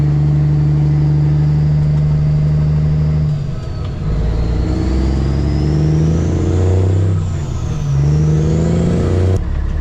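A diesel truck fitted with a quieter exhaust in place of straight pipes, its engine droning loud and close as it pulls away and accelerates on the road, with pitch rising through the gears and a steady rumble throughout.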